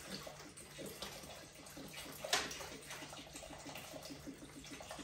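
Water, about 1.5 liters of plain tap water, is poured into a dish, giving a steady, faint splashing trickle with a brief brighter splash midway and no talk.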